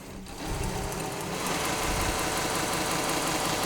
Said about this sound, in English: So I've got a bolt, and I'm just going to grind that guy down.